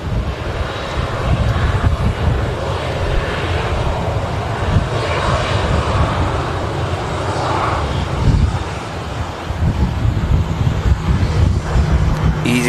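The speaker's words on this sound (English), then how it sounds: "EasyJet on departure to Charles de Gaulle." An easyJet airliner departs Manchester Airport for Charles de Gaulle with a loud, sustained jet engine roar that swells and holds, close by and buffeted by wind noise on the microphone.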